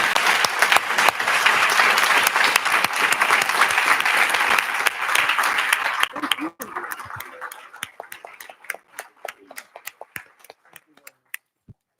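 Conference audience applauds in a hall, a dense sustained wash of clapping for about six seconds that then thins into scattered individual claps fading to a few late hand strikes.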